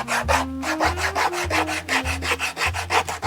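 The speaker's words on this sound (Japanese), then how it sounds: "ヤスリで荒らしておきます。" Repeated rhythmic rasping strokes of a hand rasp roughening a leather shoe midsole on a bespoke double-soled shoe, about seven steady back-and-forth passes, close and clear with no talking.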